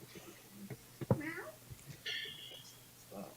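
A hungry house cat gives a few short meows close by at a quiet indoor spot, separated by brief pauses, with faint talking around it.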